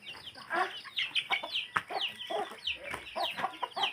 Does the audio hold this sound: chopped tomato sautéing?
no